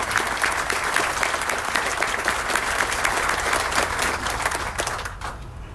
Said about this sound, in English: could you give a round of applause to Rick Evans?